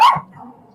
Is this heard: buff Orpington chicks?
no